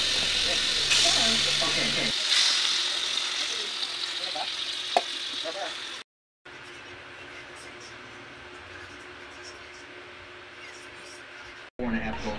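Beef marinated in soy sauce and pepper frying in hot oil, a steady hissing sizzle that runs throughout, interrupted by two brief cuts to silence, with some background noise early on.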